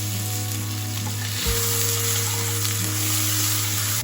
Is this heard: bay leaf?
yes